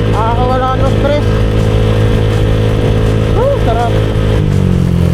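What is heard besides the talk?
Honda Click 125i motorcycle engine while riding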